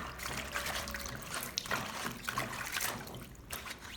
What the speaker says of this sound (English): When you lift it up and gently shake it, the water will drain out during the shaking process.